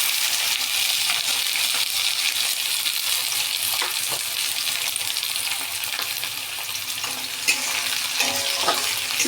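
Chopped onions frying in hot oil with dried red chilli and a bay leaf for a fish curry, giving a loud, steady, close sizzling hiss with faint stirring scrapes throughout.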